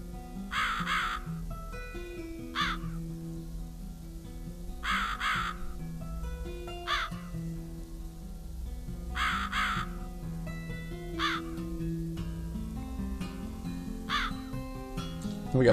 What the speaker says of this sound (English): We got birds in our shit.